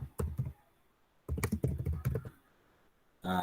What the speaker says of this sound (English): So you type Nairobi, Kenya.